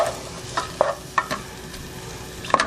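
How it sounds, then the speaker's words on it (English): Onions, garlic and oregano cook in a pan with a steady sizzle and several brief clacks as a utensil stirs them, close and fairly loud. "right now we're just going to cook these onions down. This is all onions, garlic, and 2 tablespoons of oregano."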